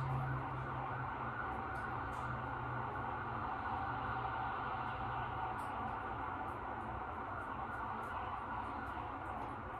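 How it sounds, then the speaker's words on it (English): Emergency sirens sound outside at 5 a.m., a faint, distant, unbroken tone that holds steady for the whole stretch under a low background hum. "What is the sirens for?"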